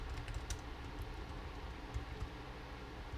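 Rust code is tapped out on a computer keyboard as scattered soft key clicks, faint under a steady background hiss, with no voices.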